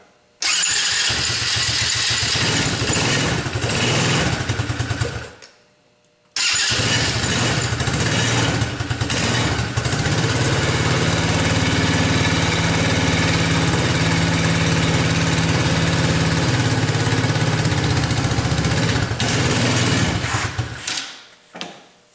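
A Tao quad ATV engine starts with help from a jump pack, running loudly up close, cutting out briefly, then restarting and idling steadily before shutting off.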